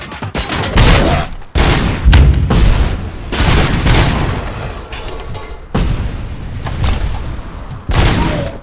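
Heavy gunfire and booming blasts in the video game RoboCop Rogue City, loud and continuous with bursts of rapid shots and explosive thuds that swell and break off in waves, with no talking.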